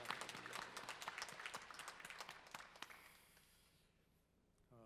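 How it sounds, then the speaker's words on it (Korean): Applause from a church congregation at a Sunday worship service, a dense wash of many hands clapping for about three seconds before thinning into a few scattered claps and fading to near silence. "오늘 이 자리에 계신 우리 주님께 감사와 영광의 박수 올려드리겠습니다."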